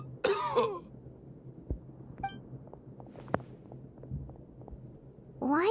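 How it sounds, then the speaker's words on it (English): A character in the video game Genshin Impact coughs in a few short, harsh bursts, the loudest at the start and end, over a faint low hum with quiet gaps between. "Why is he coughing so much? He looks like he's in really bad shape."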